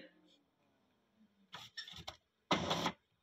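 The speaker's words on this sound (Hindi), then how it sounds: "देखिए प्रिंटर में पासबुक एंटर हो गया" A Brother printer feeds and prints a bank passbook, giving short bursts of mechanical whirring and a louder half-second printing run after a brief pause, heard alone without talk.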